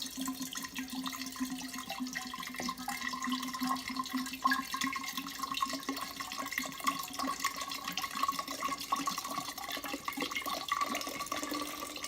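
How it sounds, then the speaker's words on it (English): Brandy pours steadily into a jar, a continuous trickling splash with a faint rising tone, quiet and close. "we are going to pour the brandy in there"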